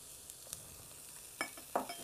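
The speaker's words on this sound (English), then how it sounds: "I'm going to cook them around just to start to let the heat soften them before I add my stock" Cut carrot pieces sautéing in a hot pan for carrot and coriander soup, stirred around with soft clicks and a few brief sizzling scrapes over a low, steady background hiss.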